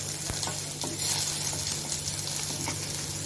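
Ground coriander and cumin masala sautéing in hot oil for bread patties, a steady close sizzle with a few sharp spoon scrapes against the pan.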